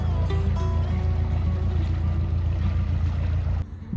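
A narrowboat's low engine rumbles steadily and close as it passes on a canal, a droning pass that cuts off abruptly near the end.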